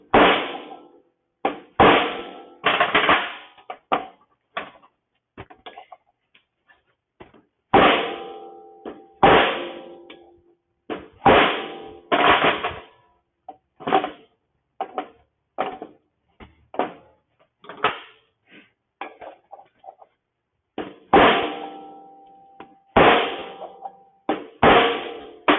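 Repeated metallic clangs from a hammer striking metal, in irregular bursts of several blows separated by short pauses, loud and close.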